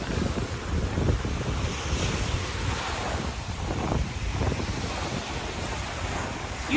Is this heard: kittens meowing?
no